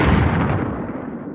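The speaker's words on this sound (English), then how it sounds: "The ship is pounded by a torpedo blast." A heavy torpedo blast strikes a starship in a radio drama sound effect, one loud, dense explosion that rumbles on and slowly decays across the whole moment.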